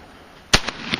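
One sharp shotgun report at a skeet range, close and loud, with quick fainter echo cracks trailing off behind it.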